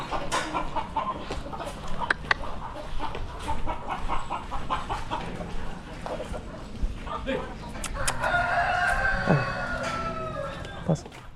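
Native chickens cluck and chatter nearby among other birds, with a rooster-like call rising near the end while people talk over the flock.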